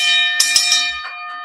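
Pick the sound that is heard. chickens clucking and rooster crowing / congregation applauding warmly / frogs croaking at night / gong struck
gong struck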